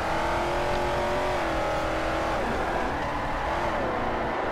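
A Mustang drift car in Virtual Formula Drift on the streets of Long Beach howls at high revs, its engine held loud and steady before the pitch shifts as it throws into a slide.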